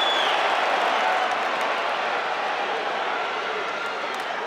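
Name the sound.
crowd cheering at a wrestling event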